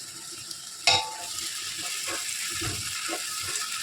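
A spoon stirs a sizzling Palakkad-style beef leg biryani masala with fresh mint and coriander in a pot, with one sharp metallic scrape followed by soft, continuous frying crackle and gentle scraping.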